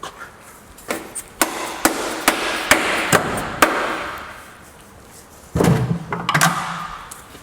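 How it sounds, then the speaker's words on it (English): A rubber hammer strikes the oil pan of a popular Toyota engine to break the seal, with a steady series of about a dozen sharp metallic knocks, loud and close, and a brief scraping rattle near the end. "Best way I found, get yourself a rubber hammer."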